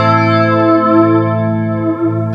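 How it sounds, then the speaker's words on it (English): A sustained, heavily processed guitar tone through a Roland Cube 40XL amp's flanger effect, with a sweeping, whooshing character, loud and steady throughout, with no talking. "We can move on to flanger now."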